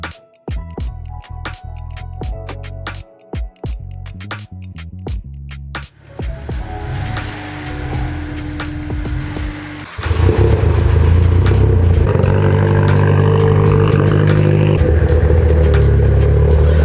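Two cars are driven out of a paint shop, starting with clattering and knocking, then an engine starts, idles and revs up loudly, building to a steady close rumble.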